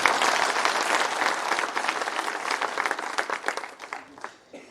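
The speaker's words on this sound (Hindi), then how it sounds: "जरा उनको आशीर्वाद दें, तालियां बजाकर।" A crowd at a by-election campaign rally claps for their candidate, Tulsi, in a loud, dense burst of applause that holds steady and then thins out and fades near the end.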